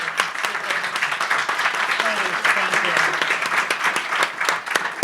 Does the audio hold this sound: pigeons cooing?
no